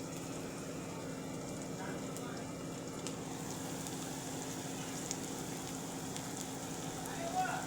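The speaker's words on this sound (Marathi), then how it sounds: "कांदा गोल्डन ब्राऊनवर आता आपण भाजून घेऊ" Chopped onion fries in a pan until golden brown while methi bhaji is being made, giving a quiet, steady crackling sizzle that runs continuously at low volume.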